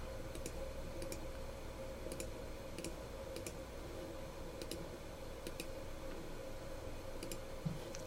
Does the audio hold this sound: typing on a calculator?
yes